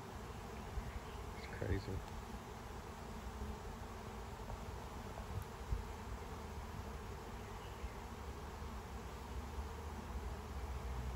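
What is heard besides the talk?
honeybee swarm buzzing while moving into a nuc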